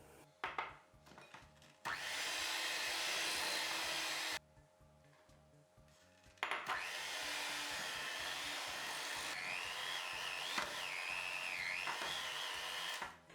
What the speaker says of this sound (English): we're just going to beat all of these ingredients together until they're creamy and well combined